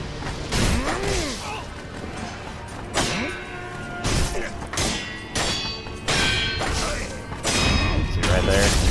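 Heavy thuds and crashing blows from melee combat in a video game, an enemy striking the player among repeated impacts, clangs and whooshes, loud and close throughout.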